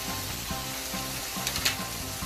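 Spices tipped into food already frying in a pan for spaghetti, with a steady close sizzle, a few soft stirring scrapes and small bursts of crackle partway through.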